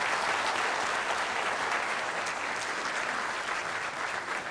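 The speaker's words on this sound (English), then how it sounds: "please join me in a round of applause for all of Chancellor Cigaroa's contributions" At a university town hall, the gathered crowd breaks into a sustained, even round of applause, moderately distant and consistent throughout.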